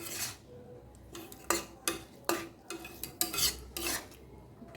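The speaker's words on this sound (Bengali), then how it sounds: "আর আলুগুলোকে একটু এই কড়াইয়ের গায়ে দিয়ে খুন্তি করে করে আমি এভাবে" Boiled potatoes pressed and mashed with a metal spatula against the side of a kadai while cooking with onions and masoor dal; repeated clinks and scrapes come in an uneven rhythm, close and fairly loud, with no talking.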